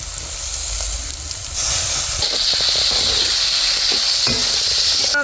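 Tomatoes drop into hot oil with onion and chili in a village-style kitchen, loud steady sizzling and hissing that swells as they hit the pan, with faint stirring clicks.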